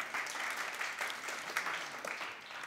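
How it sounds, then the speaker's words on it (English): An audience at a talk gives a warm round of applause, dense and steady but fairly quiet, as if from across the room. "Round of applause for that woman there."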